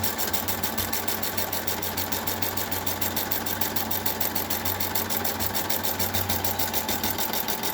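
A sewing machine stitches the mitered corner of a chair cushion, running in a steady, continuous rapid hum with fast even needle pulses throughout, loud and close with no pauses.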